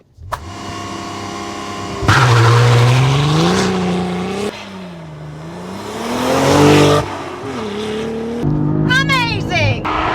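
A 2023 Cadillac CT4-V Blackwing launches from a standstill under launch control, its engine roaring up through rising revs with sharp gear changes over about eight seconds, heard loud from inside the car.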